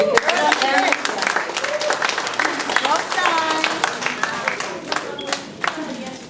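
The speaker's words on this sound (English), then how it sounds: "So let's give the kids a round of applause." Audience applause for a group of children at a school event, a steady wash of many hands clapping with crowd voices and chatter mixed throughout, fairly close and loud.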